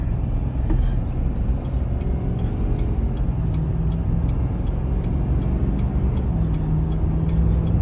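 A Duramax diesel pickup truck cruises on the highway while towing at about two-thirds throttle, a loud steady engine and road drone with faint ticking and no talk.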